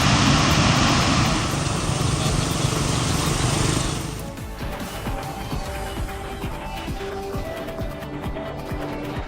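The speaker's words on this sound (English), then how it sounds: "the tension was palpable as the aircraft executed a low-altitude maneuver" Aircraft engine roar from a low-altitude pass over an airport, loud and broadband at first, then dropping sharply to a quieter, steadier engine drone.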